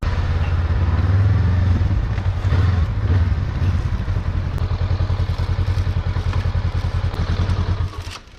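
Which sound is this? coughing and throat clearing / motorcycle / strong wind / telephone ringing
motorcycle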